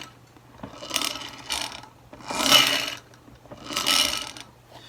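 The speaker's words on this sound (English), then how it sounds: "There's the chassis put back in. And you can hear that motor." Small electric motor in a Corgi Toys Ford Consul 1957 model car, chassis refitted: three close whirring, rattly surges rising and falling about every one and a half seconds, with quiet gaps and a faint steady hum between.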